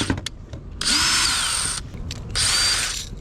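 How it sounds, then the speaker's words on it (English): A power drill bores a small pilot hole in a Lexus GX460 for a USB socket upgrade, heard as two steady whirring bursts, the first about a second long and the second slightly shorter, close and loud with no talking. "What you want to do is drill a little hole through there."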